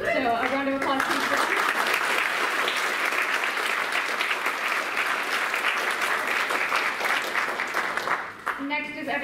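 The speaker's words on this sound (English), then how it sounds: "So a round of applause, please." Sustained, loud audience applause fills a theatre after a stage production, many hands clapping densely for about eight seconds before tapering, with a voice briefly audible at the very start and end.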